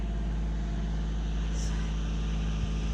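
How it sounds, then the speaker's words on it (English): A truck drives close behind someone at a hilltop cemetery in Madison, Georgia, its steady low engine drone loud and continuous throughout with a constant rumble. "And there's a truck behind me. That's what the noise is."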